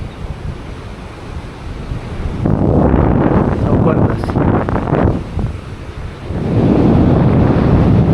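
Sea waves surge at the foot of the cliff below Anjanvel lighthouse, with a loud, broad rush that swells and ebbs. Heavy wind buffets the microphone throughout.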